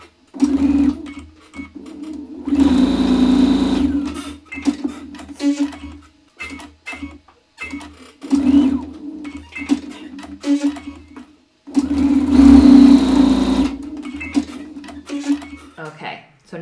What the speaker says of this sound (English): now we're going to sew these 3 rows together